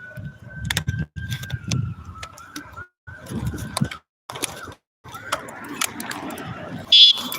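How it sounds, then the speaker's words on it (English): A horn beeps by accident, holding one steady, clear tone for several seconds amid rustling and road noise, then breaking off, with a brief higher tone later. "I accidentally beeped the horn."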